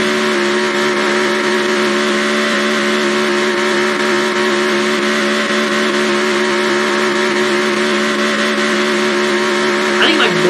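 A NASCAR Racing 2003 race car in-game engine at Milwaukee, a loud sustained high-revving drone with strong steady harmonics held throughout, and a brief rising rev near the end.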